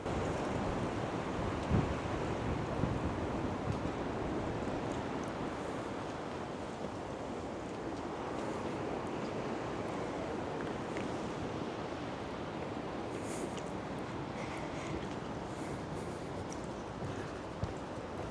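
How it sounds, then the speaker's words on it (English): Steady broadband wind rushing and roaring outdoors in Charlottetown, Prince Edward Island, constant and fairly loud throughout, with faint rustling and an occasional soft knock. "you hear the wind blowing through."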